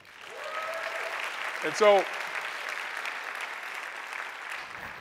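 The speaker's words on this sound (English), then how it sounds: "Let's give Elixir another round of applause." Steady audience applause at a pitch-competition final show, moderately loud and continuous, with a voice briefly speaking over it early on.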